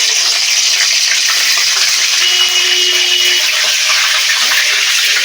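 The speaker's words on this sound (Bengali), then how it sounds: "তেলটা গরম হয়ে গেছে, তেলের উপর দিয়ে দেবো চেরা কাঁচা লঙ্কা" Slit green chillies fry steadily in hot mustard oil in a pan, giving a loud, continuous close-up sizzle and crackle that holds even throughout.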